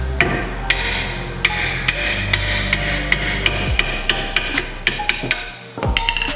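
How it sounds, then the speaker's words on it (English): A hammer strikes a car brake rotor during a two-piece rotor upgrade, landing a steady series of sharp metallic blows at roughly half-second intervals, loud and close, with no talking. "Trusty hammer."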